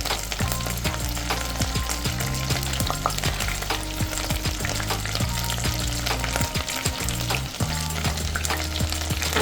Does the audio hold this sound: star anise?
yes